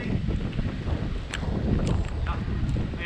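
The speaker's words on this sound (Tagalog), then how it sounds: "Ito, malakas na hangin, malakas na yung puno lang yun." Strong wind gusting outdoors through trees, a steady loud roar with buffeting against the microphone throughout, no voices.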